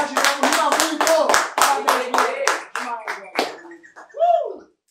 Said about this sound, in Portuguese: Palmas para Ariel aí